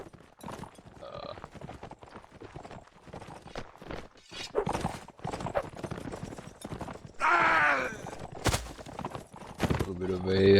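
Clattering hoofbeats of heavy cavalry horses in a multiplayer medieval battle game, mixed with combat noise under continuous commentary.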